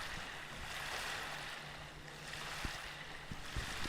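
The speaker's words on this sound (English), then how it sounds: "We see that ski nautique powering up." Ski Nautique tow boat on a lake at a waterski pro-am tournament, engine throttling up in a steady low hum beneath wind and water wash, a few soft knocks near the end.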